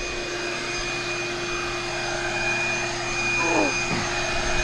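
A homemade shop vac built from a 55 gallon drum runs with a steady loud motor whine and airy rush, holding a constant tone close by, with a slight rise in intensity near the end.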